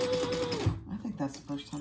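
A sewing machine stitches on an apothecary-style handbag, a brief whir heard under close talking that carries on over it.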